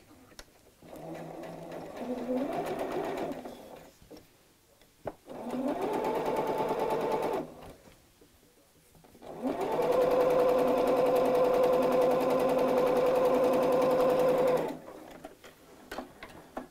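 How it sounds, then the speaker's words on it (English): A domestic sewing machine stitches straight across the fabric of a bag lining in three bursts of steady motor whirring, separated by short pauses, the last run longest and loudest. "I'm going to sew straight across there on my sewing machine."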